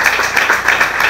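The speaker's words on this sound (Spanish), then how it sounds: "Fuerte el aplauso para Chaimet." Crowd applause for a student contestant at a regional school competition final in Guna Yala, a dense, loud burst of many hands clapping close by.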